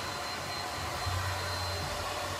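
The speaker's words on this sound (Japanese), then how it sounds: "結構ドライヤー当てるんですよね。" Hair dryer blowing close by during hair styling after applying wax, a steady, even whooshing roar that holds at one level for the whole stretch.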